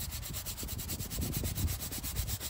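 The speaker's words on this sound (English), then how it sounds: "Oh, I don't know why you wouldn't always use the brush." Stiff brush scrubbing a dirty canvas shoe with rubber parts, making rapid rhythmic rasping strokes, close and steady, repeated back and forth without pause.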